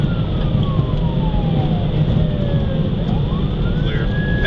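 A police car siren wails loudly during a high-speed pursuit on a roadway, its tone sweeping up and down continuously over a rumbling engine and road noise, with no talking.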